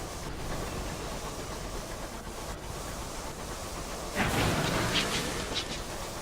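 A hostile rocket-armed locomotive in the Sunless Skies game, a steady rumbling rail-and-engine drone that swells suddenly into a louder, brighter roar with a burst partway through, sounding near.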